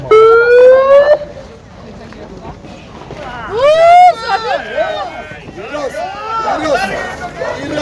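A rising siren wails twice as a start signal for a spring off-road race event, loud and close, with a crowd of voices and shouting around and after it.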